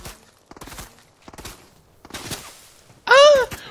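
A FAMAS rifle fires in Fortnite, with several bursts of rapid gunshots spaced out in rhythm, each a short crackling volley, before a louder, brighter tone rings out at the end.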